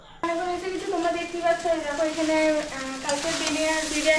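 Oil sizzles steadily in a pan while something is stirred through it, a continuous hiss with clattering touches under a sustained tonal hum.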